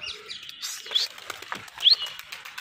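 A pigeon taking off and flying amid other birds, with light chirps and tweets and brief soft flutters of wing movement, fairly close, no speech.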